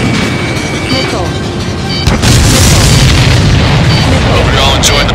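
Missile blasts in the combat flight video game Ace Combat 7, loud rumbling booms over a dense roar of aircraft noise, with a sharper burst around the midpoint and sustained explosive rumble afterward.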